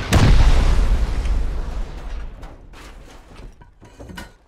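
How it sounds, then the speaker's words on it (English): A heavy bomb blast in the survival game Rust opens with a loud, deep boom, then rumbles and crackles away over several seconds while scattered debris pops and clatters. "Bombs."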